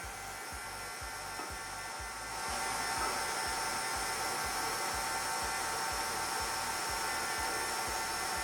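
An electric stand mixer beats cheesecake batter with a continuous whirring drone and a fast rhythmic thump from the beater, growing slightly louder partway through, with no voices.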